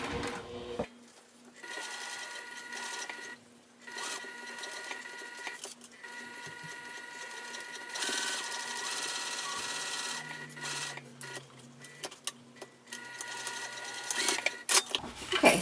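A sewing machine runs in bursts, stitching a 1/4 inch seam around a crossbody bag, its rapid mechanical whir starting and stopping with brief pauses between runs, close and moderately loud.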